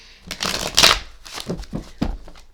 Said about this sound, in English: we're going to shuffle it 3 times in a row